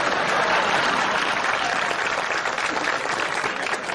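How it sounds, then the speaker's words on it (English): Steady, full audience applause for a golf hole-in-one, dense clapping from a crowd sustained throughout and fading slightly toward the end. "how about a big round of applause for Barry Martin and his hole-in-one?"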